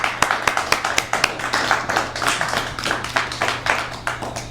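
A live audience at a tech meetup demo night claps steadily, many hands producing a dense, rhythmic run of sharp claps that carries on evenly throughout, close and fairly loud over a faint background hum.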